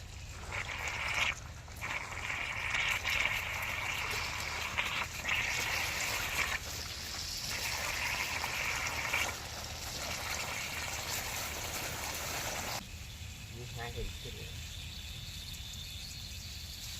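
Steady hiss of a pop-up jet sprinkler spraying water across a farm field fills the scene outdoors, with insects chirping in the background and a brief drop in the spray near the end.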